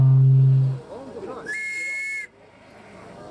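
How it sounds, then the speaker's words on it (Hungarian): An English-made gendarme whistle is blown once in a single steady, shrill blast lasting under a second, clear and fairly close, after a brief moment of other sound. "Tetszettek hallani a sípot, a csendőrsípot"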